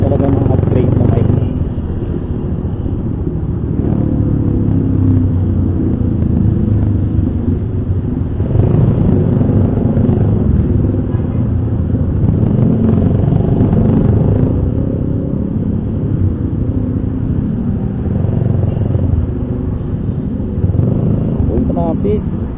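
Dense road traffic in Valenzuela, with cars and motorcycles passing continuously, a steady loud rumble of engines and clatter close by with no pauses.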